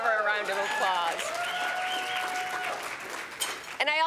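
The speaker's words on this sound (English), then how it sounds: "so let's give her a round of applause." Audience applause at an awards ceremony, a broad wash of clapping from a crowd that holds steady for about four seconds, with a voice speaking over part of it.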